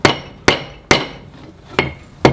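Five sharp hammer blows ring out on the hot metal tip of an old 2 lb sledge hammer being tapered by forging, evenly spaced with a brief metallic decay after each strike, close and loud.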